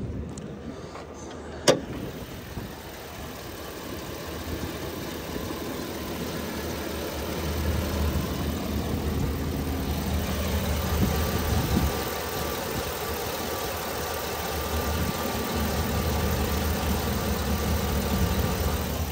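The engine of a 2019 GMC Sierra 2500HD pickup truck idles smoothly and steadily for the whole stretch, heard up close. A brief click sounds near the start.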